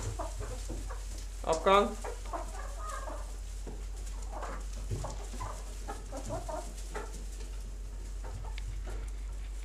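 Farm hens cluck and squawk after being let out of their coop, a brief louder cackle early on then scattered quieter clucks, with someone speaking briefly.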